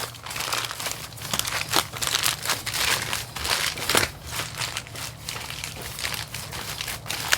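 Two layers of aluminum foil are crumpled and squeezed tight around a barbecue brisket, giving a continuous close crinkling and crackling that stays steady for several seconds.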